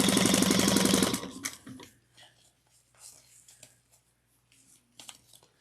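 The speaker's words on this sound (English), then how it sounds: "I'm going to sew up the other side at 3/8 of an inch now too" A sewing machine stitches a bucket bag seam in a loud, fast run lasting about a second, then stops, leaving soft handling noises and faint movement at close range.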